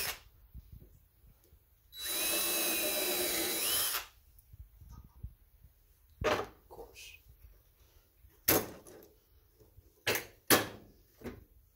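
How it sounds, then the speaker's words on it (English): A drill boring a hole through sacrificial plywood on a tabletop, a loud steady whine lasting about two seconds, followed by scattered knocks and clatters of handling the tools and wood nearby. "holes are drilled"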